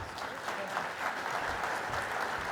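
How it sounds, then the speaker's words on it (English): Conference audience gives a warm round of applause welcoming a panel moderator, dense steady clapping filling the room throughout. "Let's welcome her with a warm round of applause."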